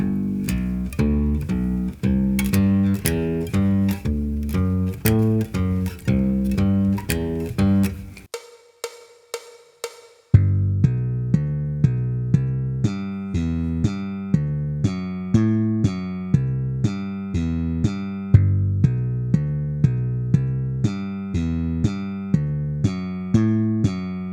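A plucked bass walks steadily through a 1-4-5 chord progression, one even note per beat, arpeggio order alternated to 1-5-3-5, with a brief pause partway through before the line resumes.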